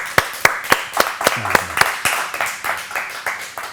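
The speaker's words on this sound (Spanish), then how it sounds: "Un aplauso para José Luis." Audience applause at a talk show or lecture event in Spanish, with a series of sharp, evenly spaced claps ringing out close by and fading into a looser patter of hand claps.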